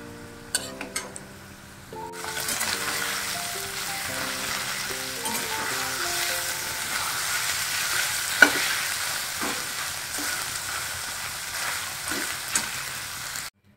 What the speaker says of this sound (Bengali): এবার এটাকে আমি তুলে নেব, দিয়ে সোয়াবিনটা একটু ফ্রাই করে নেব